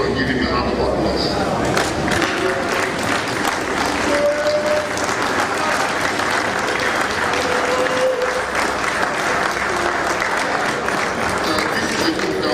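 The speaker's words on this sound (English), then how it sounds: "I want every one of us to first of all stand up and give him a hand of applause." A convention audience at a national lecture stands and gives sustained applause, dense steady clapping throughout with a faint voice occasionally audible beneath it.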